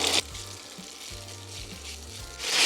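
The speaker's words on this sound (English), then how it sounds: "I'm going to fry that." Decased Italian sausage pieces fry in keto-friendly oil, a steady close sizzle with low scraping tones from the pan running beneath, the hiss swelling louder at the very start and end.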